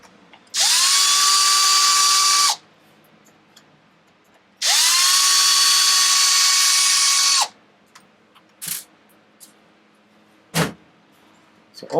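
Power drill backing screws out of the top of a Traxxas XO1 receiver box: two loud, steady whirring bursts about two and three seconds long, then a few short clicks and knocks as parts are handled.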